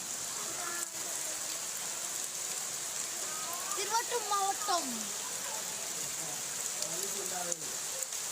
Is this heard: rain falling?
yes